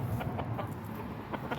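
Chickens cluck softly in a series of short, rhythmic calls inside a greenhouse at night as they are shooed in for bed, over a steady background hum.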